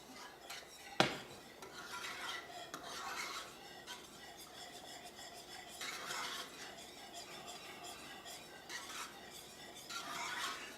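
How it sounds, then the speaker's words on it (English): A roux of melted butter and flour being stirred in a pan: a soft, steady scraping and rasping of the utensil against the pan bottom, rising in longer strokes every few seconds, with one sharp knock near the start. "stir that roux around, let it get broken down"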